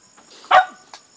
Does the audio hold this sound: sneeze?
no